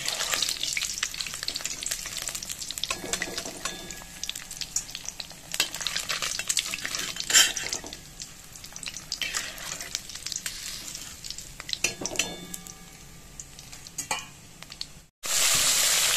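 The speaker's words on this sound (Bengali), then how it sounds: "বাকি মাছটাও আমি এইভাবেই ভালো করে ভেজে নেব।" Small mourola fish fry in hot oil with a dense, continuous sizzle, broken by bursts of stirring and spatula scrapes. After a brief silence near the end, the frying returns loud and close.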